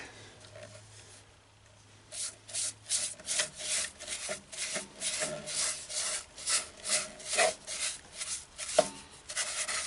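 Finish being rubbed by hand onto a turned redbud wood bowl, a quiet start giving way to rhythmic back-and-forth rubbing strokes, close and fairly soft.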